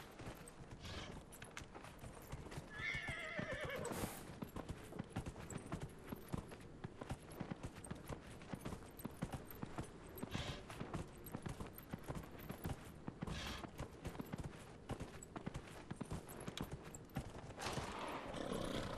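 Steady clip-clop of horse hooves on a road in the video game Dragon Age Inquisition, continuous and even under dense game ambience, with a brief whinny-like sound near the start.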